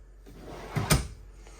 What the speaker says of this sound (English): they're pull-out drawers. Sitting right there on rollers.